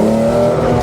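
Modified budget Skoda Yeti on a flying lap, its engine roaring loud and close in a steady, continuous drone with a faint hint of tyre scrub.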